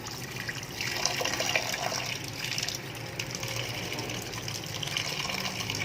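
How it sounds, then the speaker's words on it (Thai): Duck eggs are washed and scrubbed under running water, a steady close splashing and trickling stream with faint rubbing, and no talk. "เอามาล้างน้ำนะคะ ก่อนจะต้มเราต้องเอามาทำความสะอาดก่อนค่ะ เอามาขัดขัดตรงนี้ถูถู"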